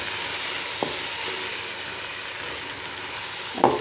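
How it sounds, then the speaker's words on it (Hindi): Chana dal roasting in a pan with spices gives a steady frying sizzle and hiss, with a couple of brief stirring scrapes, one near the end, and no voices. "मसाले में पहले दाल को अच्छी तरह भून लेते हैं। फिर इसमें थोड़े मसाले ऐड करेंगे। दाल को अच्छी तरह मिक्स कर लेते हैं।"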